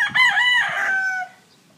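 A Kelso-like gamefowl rooster crows once, close and loud, its strained call rising and then trailing off into quiet.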